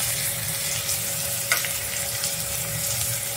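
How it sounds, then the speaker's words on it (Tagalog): Ground meat sautéing in a pan for relyenong bangus, Filipino stuffed milkfish, giving a steady close sizzle throughout with one brief clink of a utensil midway. "ihuli na natin yung ating giniling. So, lagay na natin."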